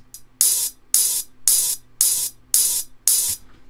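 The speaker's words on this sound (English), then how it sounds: "if we lower the velocity of the closed hat, so we can no longer hear the stick hitting it, then this simply becomes like where the pedal is pressed shut" Closed hi-hat with the pedal shut on an Arturia Spark drum machine, six short bright hissing strikes in an even steady rhythm, dry and alone.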